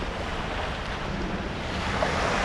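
Cold wind blowing straight off the water across a beach, with steady surf and wind rumble on the microphone, a continuous loud wash with no voices.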